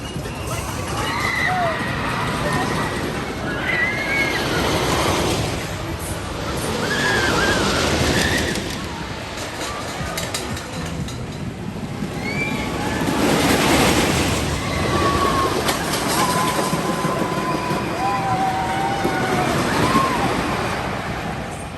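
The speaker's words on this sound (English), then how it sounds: "Now I'm heading on Thunderhawk, the park's wooden coaster, which I think is like insanely old." Riding Thunderhawk, the old wooden roller coaster at Dorney Park: a continuous loud rumble and clatter of the train on the track, swelling and easing in waves, with riders' voices and yells mixed in.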